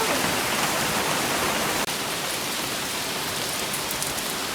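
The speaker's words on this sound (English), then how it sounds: "It's raining so hard." Heavy rain pours steadily at a rock park on Koh Samui, a dense, loud, even hiss of water with no break except one brief dip.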